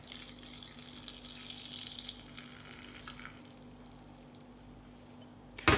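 Liquid is poured into a botanical vinegar mixture, a close steady splashing pour for about three seconds that then tapers into quieter trickling, ending with a brief knock.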